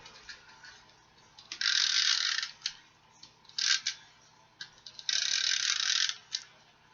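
An adhesive tape runner rolls glue strips onto a 4 by 1 3/4 inch piece of paper for a card, giving close, quiet bursts of gritty ratcheting clicks in several separate passes with short pauses between them.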